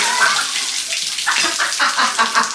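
Water pours and splashes continuously in a steady gush out of a Nissan 300ZX engine, close by, with no talking.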